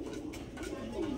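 Big-sized pigeons coo in a low, soft, murmuring call at a market stall. A faint voice is heard in the background.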